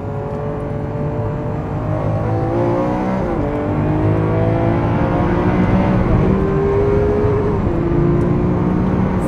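A Lamborghini Aventador SV accelerates and brakes, its loud engine note rising through the revs, dropping at a shift, then climbing again in a sustained, close roar with no speech.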